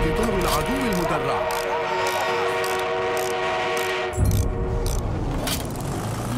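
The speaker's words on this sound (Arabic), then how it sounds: "لقد وصل قطار العدو المدرع." An enemy armored train arriving in Battlefield 1, a steady mechanical rumble and tonal whistle-like drones with heavy clanking and gunfire bursts over it, and a deep boom near the end, with a voice speaking over the scene.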